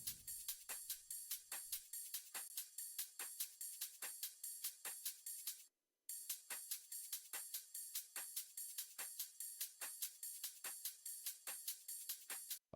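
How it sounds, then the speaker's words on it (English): Two layered drum loops taken from Splice, one stereo-separated and turned down, play as a dense, steady stream of crisp bright hits with a brief dropout midway, alone and close. "I ended up layering that with these 2 drum loops right here."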